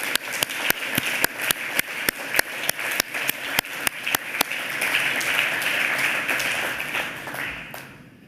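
Conference closing-ceremony audience applauding: sharp, evenly spaced loud claps rise into a swell of sustained applause, then trail off at the end.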